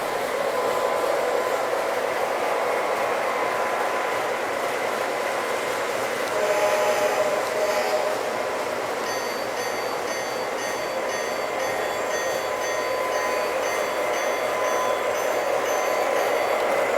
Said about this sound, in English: Here goes the freight train.